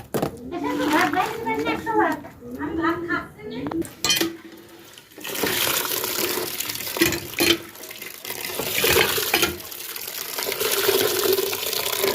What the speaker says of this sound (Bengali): সুন্দর করে হচ্ছে পুঁই শাকগুলো ধুয়ে নিচ্ছি আমি, কারণ পুঁই শাকে অনেক বালি থাকে